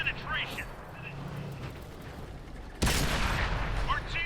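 A tank cannon fires in the World of Tanks video game: one sharp, loud blast lands partway through, then a sustained roar rings on as speech carries over the top.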